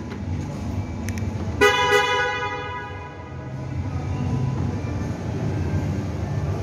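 A 2023 Ford Everest Limited horn gives two short honks close by as the car locks, followed by a quiet, steady background hum.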